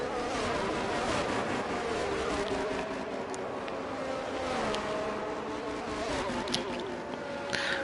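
Engines of race cars in a racing video game drone continuously and loudly during a Brazilian Grand Prix league race, a steady layered roar with pitch shifts as cars line up, no talk.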